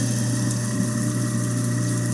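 A kitchen sink garbage disposal runs steadily at close range, a constant motor hum with a smooth, even drone and no voices.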